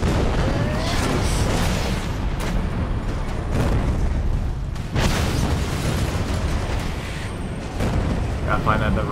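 Rocket explosions in the video game Prototype 2 roar as a loud, continuous wall of rumbling booms and bursts, with dense blasts overlapping for the whole stretch and no clean pauses between them.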